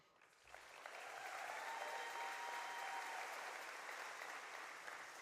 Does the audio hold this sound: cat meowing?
no